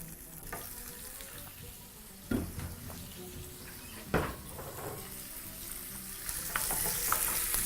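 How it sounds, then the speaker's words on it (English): Beef browning in a little oil in a pan over high heat, a steady close sizzle throughout with a few sharp clatters of stirring or pan contact and the frying growing slightly louder toward the end. "Now at high heat, proceed to allow for your beef to begin to brown very, very quickly."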